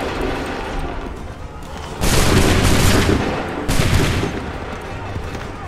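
Musket volleys roar in a battle in Assassin's Creed 3, with two loud crashing bursts of massed gunfire over a constant din of combat noise.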